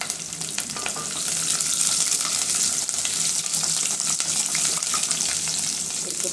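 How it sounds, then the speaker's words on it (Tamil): Shallots, green chillies and a dried red chilli sauté in hot oil in a pan after mustard seeds have popped, giving a steady, close sizzle and crackle throughout with no talking. "இப்போ சின்ன வெங்காயம் ரெண்டு ரெண்டு பச்சை மிளகாய் ஒரு வரமிளகாய் இதெல்லாம் போட்டு வணக்கிக்கிறேன்"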